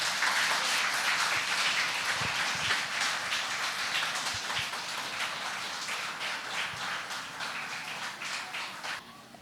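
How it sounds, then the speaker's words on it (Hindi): An audience claps after a stage performance at a school project event, a steady rain-like patter of many hands that stays even and then thins slightly toward the end. "सबके लिए एक बार और फिर से तालियां हो जाए"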